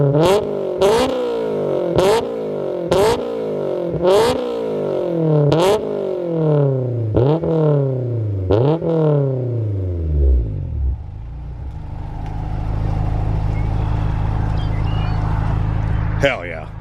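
A Honda S2000 with an aftermarket exhaust revs hard, top down, in a series of about seven sharp rising-and-falling barks, then settles into a deep steady idle rumble.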